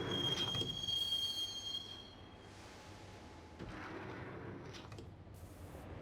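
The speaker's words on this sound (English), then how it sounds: "The train doors had already shut behind me, and I was in for the ride." Subway train ride in the Max Payne game, with a high squealing of wheels on rails early on, then a steady low rumble of the moving carriage and a few rattling clunks, fairly quiet.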